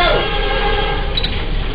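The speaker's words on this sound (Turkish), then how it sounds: "Tren acı acı düdük çaldı." A train horn blowing in the United States just before the train strikes a bus stuck on a crowded crossing, loud and steady with heavy rumble underneath, sustained for the whole short stretch.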